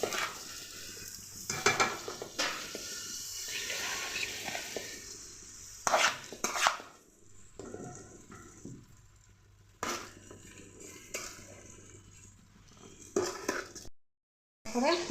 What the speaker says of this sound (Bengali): এবার আমি মেখে রাখা চালগুলো ছেড়ে দেবো কুকারের মধ্যে